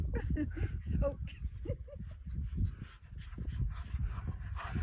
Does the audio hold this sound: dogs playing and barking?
yes